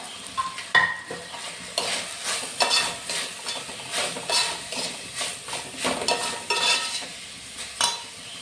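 Egg stirred and frying in a hot pan with oil for chicken fried rice, a steady sizzle broken by repeated scraping strokes of a spatula, close and fairly loud with no talk.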